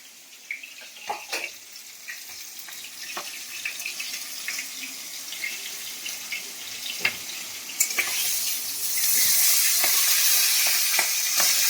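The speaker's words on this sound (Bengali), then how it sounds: "এই যে ইলিশ মাছের মাথাগুলো ভাজা হচ্ছে" Hilsa fish heads frying in hot oil in a home kitchen, a soft crackling sizzle punctuated by sharp pops and utensil clinks, swelling into a louder, steady hiss near the end.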